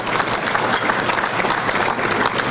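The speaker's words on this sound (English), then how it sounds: "give them a round of applause" Loud, steady applause from an indoor audience at a political event with Michigan Attorney General Bill Schuette. Dense clapping runs continuously through the whole stretch with no talking over it.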